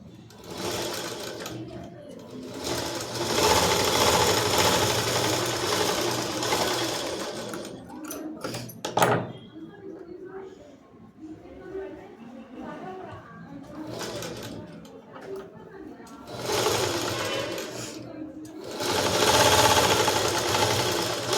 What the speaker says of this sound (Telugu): ఇటు సైడ్ కూడా అట్లనే కుట్టుకోవాలి.